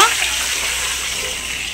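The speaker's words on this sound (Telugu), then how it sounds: "దాంట్లో అయితే ఒక సొమ్ము నీళ్ళు అయితే పోసిందండి" Water poured into a pan of well-heated oil for making Bombay rava kesari, producing a loud rushing hiss that holds steady and close for the whole stretch.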